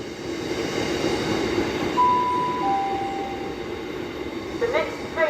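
A train passes through Lincoln Central station, a steady rumbling roll of wagons with a brief high wheel squeal partway through and light clanks near the end.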